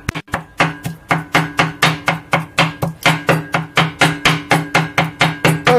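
Back of a knife chopping shrimp paste on a chopping board, a steady run of close, loud, evenly spaced thuds, roughly three per second, with no talk.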